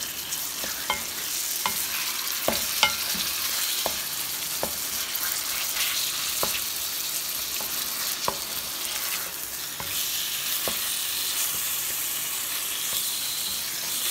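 Half a kilo of cubed boneless chicken fries in a pot for a handi, a dense continuous sizzle close up, with scattered taps of a stirring spoon against the metal.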